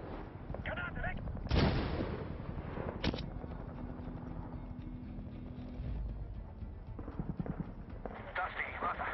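Gunfire and a grenade blast in the war shooter Medal of Honor, sharp cracks and a heavy boom over rumbling battle noise at mid distance, with voices talking over it.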